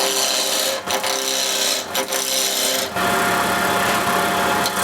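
A wood lathe at about 1900 RPM with a 3/4 inch skew chisel roughing the blank down in peeling cuts gives a steady, loud broadband scraping hiss with a few brief dips in the cutting, and nobody speaks.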